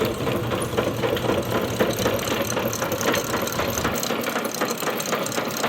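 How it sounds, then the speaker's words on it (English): A rebuilt Viking V2 grain cleaner, driven by a single-phase 110-volt electric motor, runs close by as its chain and rotary drums cycle, giving a continuous mechanical whir with a fast, busy rattle throughout. "You can see the chain and the rotary drums cycling here"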